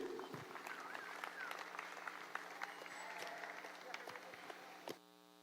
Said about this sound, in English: Let's give these youth a round of applause for their efforts here.